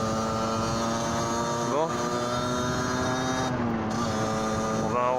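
Motorcycle engine idling and warming up after a long time without running, a steady close drone with a couple of brief pitch swells, while someone speaks over it.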